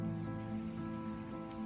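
Steady rain falls in an Unreal Engine game world, a dense even hiss over a sustained low tonal hum that stays constant throughout.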